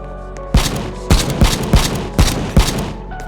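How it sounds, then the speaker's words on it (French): An alien gun fires in a cooking survival video game: six evenly spaced heavy booming shots ring out over a steady low hum. "J'ai un fusil extraterrestre."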